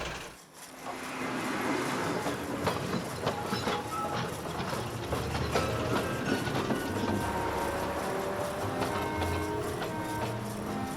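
A train running on rails through a blizzard, a continuous loud rumble with rhythmic clicking and metallic clatter from the wheels and cars, steady throughout.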